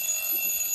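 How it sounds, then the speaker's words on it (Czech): A brief alarm clock ring, a steady high-pitched electronic tone heard close and fairly loud for under a second. "Budík zvoní, klasika."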